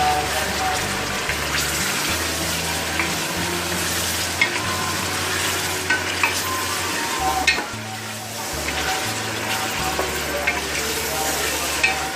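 Mutton pieces fry with crushed garlic in a pot for nihari, a dense continuous sizzle with periodic stirring scrapes, while a low voice speaks intermittently underneath.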